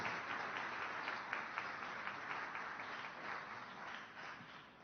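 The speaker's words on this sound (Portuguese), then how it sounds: "Uma salva de palmas para a igreja de Jesus." Applause for the Church of God at a tribute event in Belo Horizonte, a continuous, even wash of many hands clapping, moderately distant and sustained throughout.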